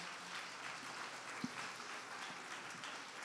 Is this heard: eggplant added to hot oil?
no